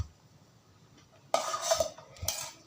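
A plate set down at a lunch meal, quiet at first, then a sudden close clatter of cutlery against the dish followed by a second, shorter clink.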